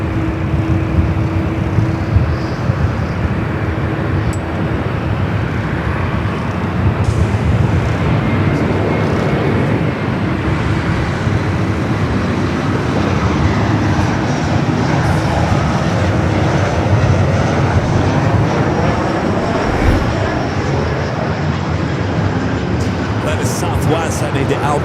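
A United Airlines Boeing 787-9 Dreamliner taking off at LAX: a loud, continuous jet engine roar sustained throughout, with a voice talking over it.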